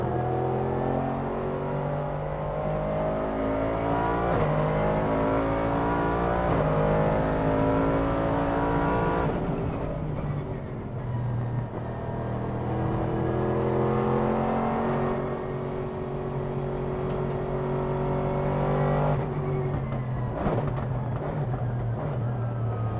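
A Nissan GT1 race car on track, its engine revving loud and close through rising gear pulls, with a brief dip in the drone between shifts before it climbs again.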